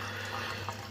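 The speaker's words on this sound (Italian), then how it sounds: "c'è un rumore di tracimature assordante" Loud, constant rushing of water overflowing from the return pump of a marine aquarium being set up, a dense steady splash with no break.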